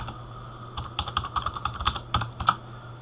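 A computer keyboard clicks out an administrator password, a quick run of about a dozen light, close key taps over a quiet steady hum.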